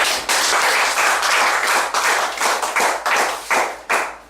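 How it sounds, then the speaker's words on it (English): An audience applauds a graduate at a 2013 CSEC graduation ceremony, a dense, steady patter of many hands clapping that runs throughout, loud and close, slowly thinning toward the end. "A round of applause, people"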